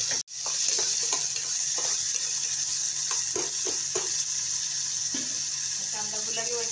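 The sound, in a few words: onion and curry leaves frying in hot oil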